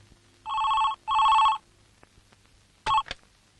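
A telephone rings in two long electronic bursts, then gives a short third ring that cuts off. The ringing is close and clear against a quiet room.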